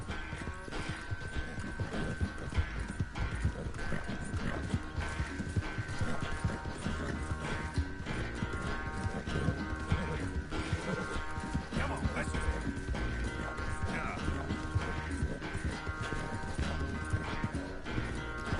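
Rhythmic horse hoofbeats clip-clop steadily throughout over a busy Red Dead Redemption 2 game soundscape with continuous music and effects.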